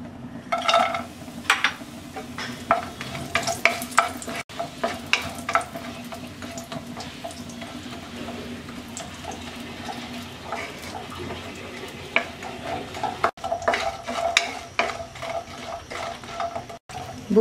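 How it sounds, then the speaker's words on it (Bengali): Lentil dumplings (bori) fry in oil left over from frying hilsa fish, a steady close sizzle with frequent stirring scrapes and clinks of a utensil against the pan. "এবার আমরা বড়িগুলো ভেজে তুলে রাখবো।"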